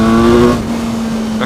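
A BMW S1000R naked motorcycle accelerating in second gear at about 40 mph, a loud close engine note that rises sharply and then drops to a steady tone under wind rush.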